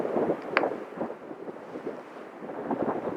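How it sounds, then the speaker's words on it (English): Gusty wind buffets the microphone in uneven low rumbling surges on a mountain, with no voices. "It's a little windy."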